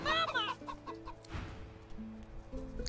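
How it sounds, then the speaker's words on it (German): A pet chicken in the fantasy role-playing game Divinity: Original Sin 2 clucks several times in quick succession, close and clear over a layer of game music. "Und wir haben immer noch unser Hühnchen dabei"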